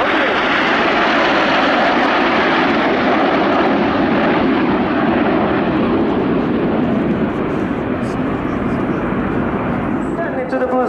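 Frecce Tricolori aerobatic jets fly during an air display, producing a loud, continuous broadband roar that holds steady throughout with no breaks, as the engine noise fills the open air.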